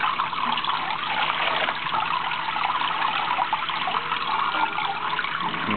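Maple sap pours through siphon tubing from a homemade float-valve setup, a steady, close gushing flow of liquid that runs continuously and evenly throughout without pause.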